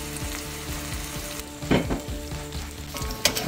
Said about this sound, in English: We're going to get a little sear on this side